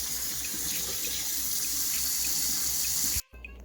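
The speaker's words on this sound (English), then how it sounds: "When you drain them, you can run a little cool water on them just to make sure that they're not too hot" Cool tap water runs steadily from a kitchen faucet over drained lasagna noodles in a sink, a constant close hiss that stops abruptly near the end, leaving a brief quiet patter.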